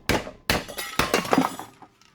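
Stuck front brake pad being pried out of the caliper on a 2006-2011 Honda Civic Si, three sharp metallic knocks and scrapes in quick succession, close and loud, then fading.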